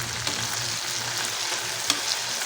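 Okra sizzles and crackles in hot oil, a steady close frying sound with a few sharp pops and stirring noises.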